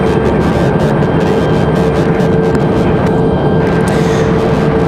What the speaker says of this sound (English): So that American 737 coming in from Cancun.